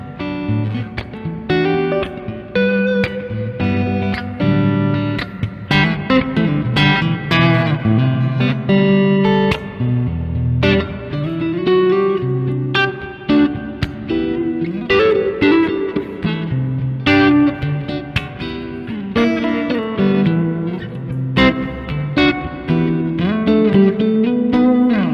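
Electric guitar played through a Caline Ragnarok reverb and delay pedal, a steady run of picked notes and chords with long ambient tails washing into each other, loud and continuous throughout with no voices.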